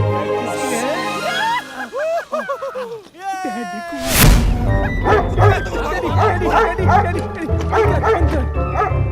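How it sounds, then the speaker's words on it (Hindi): A guard dog kept at a mansion barks and yips repeatedly, loud and close, mixed with whimpering and busy background sound, while people talk over it. "डैडी ने हवेली में हमारी सिक्योरिटी के लिए कुत्ता रखा है।"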